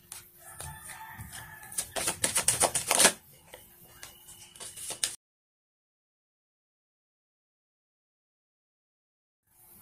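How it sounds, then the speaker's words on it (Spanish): Tarot cards being shuffled for a reading, a dense rapid riffling clatter for about five seconds, louder near the middle, then sudden silence. "Ahora vamos a barajar las cartas que representarán el potencial más alto"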